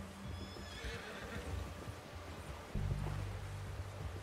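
Horse whinnying and neighing with clip-clopping hooves in the video game Red Dead Redemption 2. The loud neighs are close, the hoofbeats are steady, and a louder low rumble comes in near the end.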